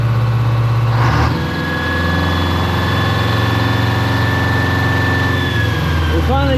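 A LeTourneau Tournapull D diesel-electric earthmover's engine runs steadily with a deep low rumble and a thin whining tone above it, shifting pitch briefly near the start and again near the end.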